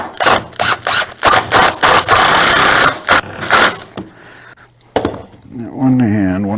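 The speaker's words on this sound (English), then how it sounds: "we'll put some wood screws in there. That's a little pilot hole, and countersink it again." A power drill bores a pilot hole and drives wood screws into a cornhole board, making short buzzing bursts with brief pauses between them, followed by a moment of voice near the end.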